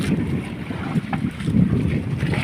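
Steady wind buffeting the microphone over open water, with a low rumbling roar and gusty swells throughout, no voices.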